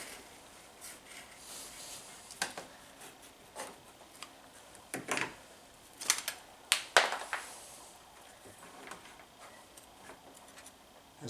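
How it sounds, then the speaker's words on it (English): A knife cuts the ends off a spare rubber power steering hose on a GMC/Chevrolet 1500 during a pump replacement, making scattered faint clicks and scrapes, with a cluster of sharper snips near the middle. "Okay, I have a little extra hose to work with here, so just gonna cut the ends off."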